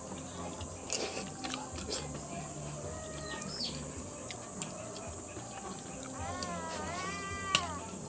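A cat meows in a few rising-falling calls near the end, fairly close, over a busy household background with faint other noises and clucking fowl.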